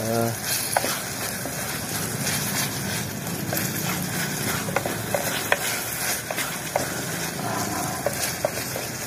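Tempe ebi petai is stirred in a pan over an outdoor fire, with steady sizzling and frequent scraping strokes of a utensil against the pan, close and moderately loud, with faint voices in the background.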